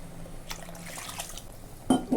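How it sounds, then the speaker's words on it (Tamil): Water trickles and splashes faintly into a pan of fish curry being made to go with ragi kali, with a louder pouring burst near the end. "கொஞ்சம் தேவையான அளவு தண்ணி ஊற்றிக்கலாம்."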